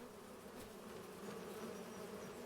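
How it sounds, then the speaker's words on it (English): A swarm of bees hums steadily in the Farming Simulator 25 game, a faint, even drone with no breaks across the short stretch. "Oh, we actually have bees."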